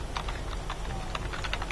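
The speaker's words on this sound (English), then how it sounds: "I'm typing in a greeting here where it says Greeting." Steady typing on a computer keyboard while a greeting is entered into a Facebook page, with quick, close and clear keystrokes clicking in an uneven rhythm and no voices.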